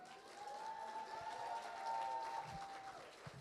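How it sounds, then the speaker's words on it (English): Audience applause at a campus bridge course finale stage event, moderate clapping from a crowd with a faint sustained tone underneath and a few low thumps near the end. "Can I have a round of applause for myself also?"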